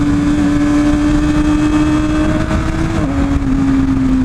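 Motorcycle engine revving while shifting gears, cruising in third gear: a loud, close, steady engine drone with a clear tonal whine that dips slightly as the gear changes.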